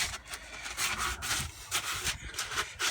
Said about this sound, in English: Give it a bit of a chamfer with some sandpaper